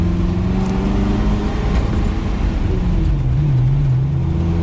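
A 1,750-horsepower supercar accelerates, a loud, close, steady engine roar with tones that dip and climb again as it pulls hard, and nobody speaks over it.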